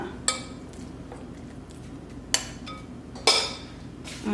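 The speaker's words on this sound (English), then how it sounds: "we're just gonna mix this all together, make sure that all of the quinoa and the oats get moistened and sticky" Steel cut oats and quinoa are stirred together with a coconut oil paste, giving a quiet scraping stir with three sharp utensil clinks against the bowl.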